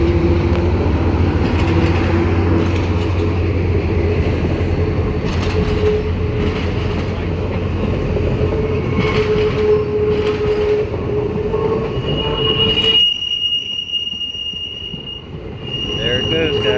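A MARC commuter train hauled by a locomotive slows through a junction with a 15 mph limit, giving a loud, steady rumble of cars with wheel squeal and clatter throughout, then thinning out toward the end; distant talk is faintly present.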